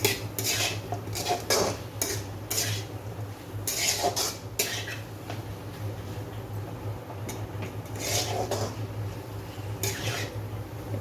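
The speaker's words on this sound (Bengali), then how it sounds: "আমি আলুটা দিয়ে কষা ভালো করে মশলার সঙ্গে আলুটা কষে নেব" Potatoes stir-fried with spices in a pan, with repeated close clinks and scrapes of a utensil against the metal over a low, steady background hiss.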